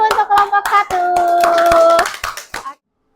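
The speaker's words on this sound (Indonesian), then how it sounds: "Tepuk tangan dulu untuk kelompok 1." Classroom students clapping for a presenting group, a string of sharp claps with a sustained child's vocal tone over part of it, then silence.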